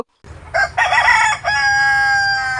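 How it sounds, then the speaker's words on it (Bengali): A rooster in a village yard crows loudly and close, one full rising and held call that rings out clearly with almost no other sound. "দেখেন মুরগিগুলো কিরকম ডাকে, কুকুরুকু"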